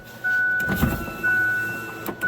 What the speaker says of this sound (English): Windows are working.